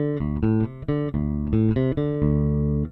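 Electric bass running through the E.W.S. Tri-logic Bass Preamp 3, engaged: a short riff of loud, rounded plucked notes in quick succession with a sustained final note, played alone.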